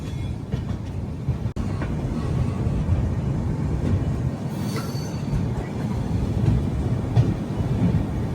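A train on the Hyderabad–Jodhpur route arrives at platform 1 of a station with a steady, heavy rumble of rolling wagons. Wheel squeal and faint clatter run through it continuously, with no speech.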